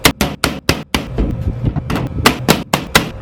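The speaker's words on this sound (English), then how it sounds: "So we got to get this padlock off, which it shouldn't be too terribly hard, right?" A padlock is forced off a paint booth door as its self-tapping screws give out, with a series of loud, sharp hammer-like blows in quick irregular bursts, close and alone.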